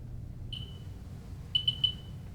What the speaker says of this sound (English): Beeping becomes a little more pronounced around the smoke detector